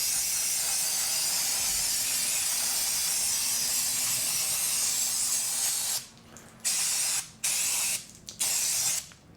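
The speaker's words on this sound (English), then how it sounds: "I'm going to give this a blast off with some brake cleaner," Brake cleaner sprayed from an aerosol can onto the rear brake of a 2012 Ford Fiesta 1.2 Zetec, a loud steady hiss lasting about six seconds, then several short bursts with brief gaps between them.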